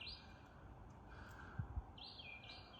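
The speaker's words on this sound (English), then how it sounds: "the birds are chirping" Birds chirping outdoors at night outside a house, a few faint high chirps and short calls over quiet background hiss.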